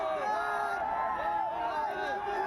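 A large crowd of fans gathers outside Amitabh Bachchan's Jalsa bungalow, a steady dense hubbub of chatter and occasional whoops at moderate distance, continuous throughout.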